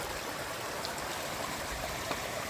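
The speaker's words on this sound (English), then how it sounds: "it'd be nice camping by this and hearing the little creek all night" A small creek, Ivy Creek along the Appalachian Trail near Turk Mountain in Shenandoah National Park, flows in a steady, even rush of water, close and continuous with faint trickling detail and no voices.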